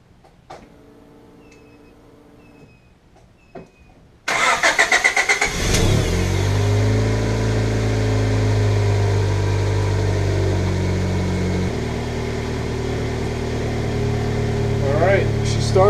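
A 1990 Honda Civic hatchback with an exhaust leak cranks briefly, catches with a loud start and a rev, then settles into a steady, close-up idle; quiet talk and clicks come before the start.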